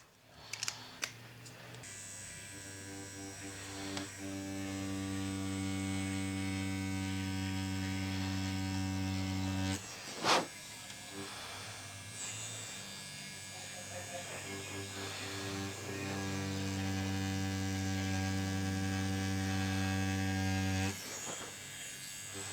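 A CptInk-01 cordless tattoo machine with a CNC motor running, a steady close electric buzz with strong hum tones that shifts pitch slightly as settings change, broken by a few sharp clicks and handling knocks, no speech.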